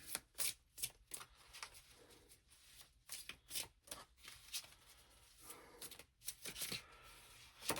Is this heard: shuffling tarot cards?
yes